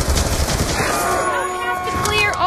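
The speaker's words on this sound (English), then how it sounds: "Why did I fire off all my bullets?" Gunfire in the Black Ops 2 zombies mode TranZit, a loud rapid burst of shots up front, then tonal game sounds and bursts under talk.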